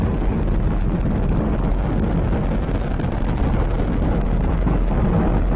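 A SpaceX Falcon 9 rocket's nine Merlin first-stage engines roar during a crewed Dragon launch, a steady, dense, crackling rumble heard from afar with wind buffeting and no voices.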